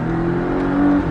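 Porsche Cayman 718S engine pulling hard on the Mettet circuit, a steady, loud, close drone with a rising tone, no pauses.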